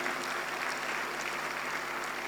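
A large youth audience at the NELEF 24 gathering gives a sustained, even round of applause, many hands clapping together in a thick, continuous wash with no voices over it.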